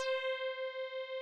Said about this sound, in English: just a random stock synth preset for Ableton's operator